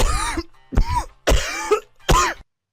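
Four harsh, loud coughs in a row, close up, separated by brief pauses.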